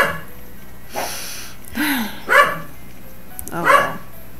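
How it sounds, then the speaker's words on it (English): A dog barks three times at a grandparents' house, moderately close with spaced-out pauses between barks, over a low steady background hum. "The dog is barking at nothing now."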